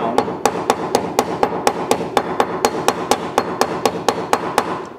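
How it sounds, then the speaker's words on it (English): A ball peen hammer strikes a metal piece on weights to mushroom it over a hole. About twenty sharp, evenly spaced metallic taps repeat rapidly and steadily, close and clear over a faint background. "we will take our ball peen hammer, and on the end, we will take it and you just knock it down"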